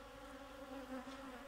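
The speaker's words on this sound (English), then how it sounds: "that is a bee, and I bet that that bee is planning to hurt you" Steady, faint buzzing of a bee hovering nearby, continuous with no pauses, in a calm, quiet ASMR roleplay setting and with no voices over it.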